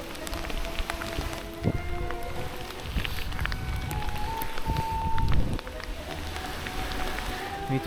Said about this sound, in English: Yeah, now it's gonna rain very badly.